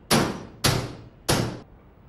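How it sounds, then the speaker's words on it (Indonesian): Three heavy, evenly spaced blows against a door, each a loud bang with a ringing decay, as someone tries to force it open while trapped in an apartment on the 35th floor. "Saur langsung mencoba membuka pintu tersebut dengan segala cara"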